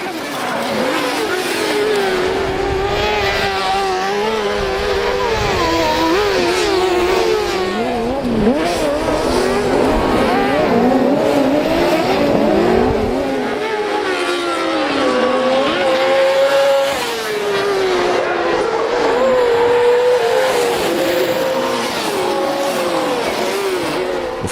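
Race cars roar past at a 2006 auto race at Is-sur-Tille, engines rising and falling in pitch as they accelerate and brake, loud and continuous with overlapping passes.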